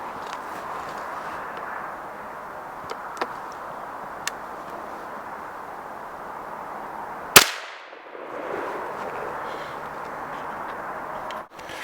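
A single sharp outdoor blast from a .410 shotgun loaded with 2.5 inch number 4 shells cracks out loudly mid-way through steady background hiss, followed by a brief dip in the ambient noise.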